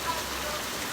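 Steady rain falls in Ghana during the rainy season, a dense, even hiss of drops on surfaces that holds close and constant throughout without a break.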